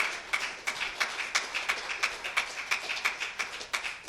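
A church congregation claps together in a steady, rhythmic beat, the sharp claps repeating about three times a second and filling the room at moderate volume with no voices over them.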